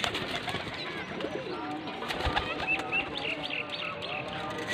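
Around fifteen rooftop-loft pigeons in Faisalabad coo in soft overlapping calls, with bursts of wing flapping and faint chirps throughout, fairly quiet and close.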